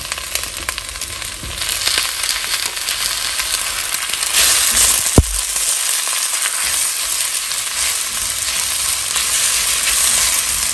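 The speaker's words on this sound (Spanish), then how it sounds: "agregar un chorrito de aceite y vamos a agregar la cebolla. Aquí la voy a dejar un ratito a que se empiece a dorar" Onion sizzles loudly in a splash of oil in a pan, a dense continuous crackling hiss close by, with a single sharp clink of a utensil midway and no talk.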